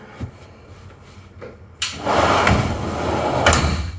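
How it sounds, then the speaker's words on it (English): A Chevy BrightDrop 400 electric van door shuts with a solid thud, then a steady mechanical hum carries on; a fainter knock comes earlier. "we close this down, and we close this door"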